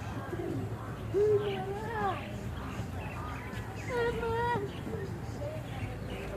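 Pigeons cooing at a pigeon house in Burnham Park, a run of soft warbling coos rising and falling over several seconds, close by, with faint background voices and ambient outdoor noise.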